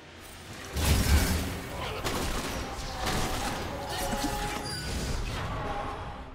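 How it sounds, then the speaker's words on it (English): A turret crumbles in League of Legends, a burst of crashing, shattering debris and booming impacts followed by ongoing clattering combat noise, with faint voices beneath. "Blue team's turret has been destroyed."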